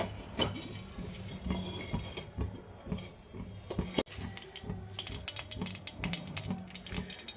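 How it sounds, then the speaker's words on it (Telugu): Urad dal, chana dal and mustard seeds frying in hot coconut oil for poha upma crackle and sizzle steadily, with spatula stirring and light clinks against the pan throughout. "మినపప్పు శనగపప్పు ఆవాలు వేయించాలి"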